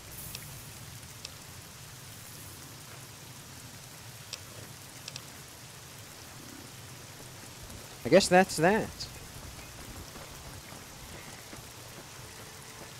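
Steady, even rain in the video game Fallout: New Vegas hisses throughout, with a short spoken phrase partway through.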